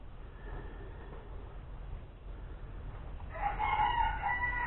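A rooster crows in the second half, a drawn-out call at moderate distance rising over a low, steady background hiss.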